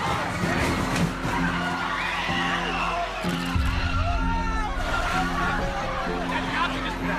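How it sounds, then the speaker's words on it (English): A car skids and plows into a crowd of counter-protesters in the street. A tire screech and engine noise sound close by over constant crowd babble and shouting, continuous and loud throughout. "When suddenly a car came plowing into the crowd."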